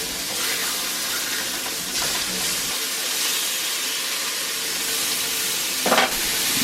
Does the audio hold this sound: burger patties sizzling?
yes